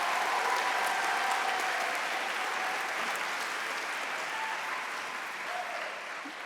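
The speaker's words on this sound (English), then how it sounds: "can we just have one more round of applause for those spectacular people?" Concert audience applauding the performers at a county schools chorus concert, a steady dense wash of clapping that holds throughout and slowly tapers slightly toward the end.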